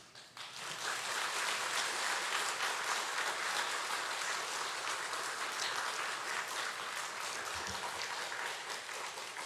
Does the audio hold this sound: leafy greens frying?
no